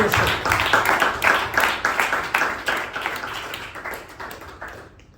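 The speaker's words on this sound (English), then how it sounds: "a big round of applause for Toastmasters" Round of applause at a Toastmasters club meeting: several people clap in a fairly steady rhythm of distinct hand claps, close and moderately loud, thinning out and fading toward the end.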